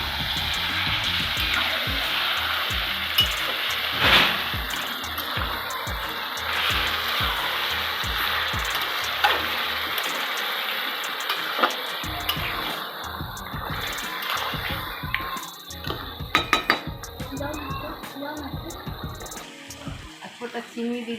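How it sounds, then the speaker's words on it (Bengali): Rohu fish head and taro leaves freshly picked from the field are stirred and fried in a pan: a steady close sizzle runs throughout, broken by scattered clicks and scrapes of the spatula. "এখন নাড়বো।"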